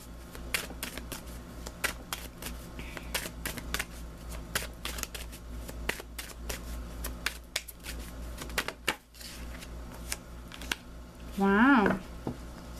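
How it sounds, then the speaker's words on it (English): Tarot cards are shuffled and handled in a steady run of crisp riffling flicks and slaps throughout, with a brief louder burst of rustling near the end; no speech is heard over it. "let me pull you an additional guidance card"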